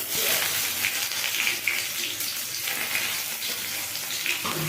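Bay leaf, red chili and onion frying in hot oil for a masoor dal curry, a steady close hiss of sizzling that runs unbroken throughout with no talk.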